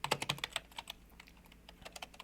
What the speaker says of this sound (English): And the hero sound here of keyboards.